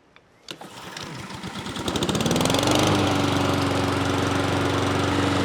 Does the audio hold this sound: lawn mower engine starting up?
yes